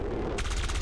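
A burst of rapid gunfire from the strategy video game XCOM 2, loud and continuous with a fast stuttering rhythm of shots crowding the whole moment.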